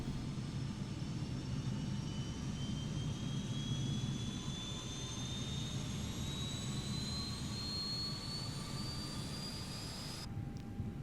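Airbus A320neo auxiliary power unit running in Microsoft Flight Simulator, heard from outside the aircraft as a steady, loud turbine roar with a rising high whine that continues unbroken, no voices.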